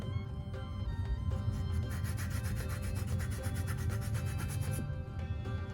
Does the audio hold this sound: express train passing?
no